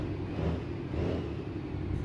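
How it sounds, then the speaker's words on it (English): Truck engine idling in American Truck Simulator after the brakes are released, a steady low rumble with a broad even hum and no change in pitch, running alone without voices. "See how this engine sounds."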